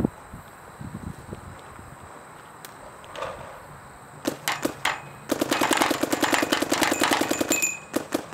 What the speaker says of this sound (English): Today we'll be shooting the G-Tech 170R.